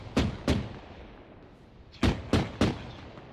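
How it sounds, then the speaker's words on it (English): Cannon fire from a BMP armored vehicle in Arma: five sharp, heavy shots, a quick pair followed by a rapid trio, booming out at mid distance over faint ambient background. "I wonder where the BMP is shooting at"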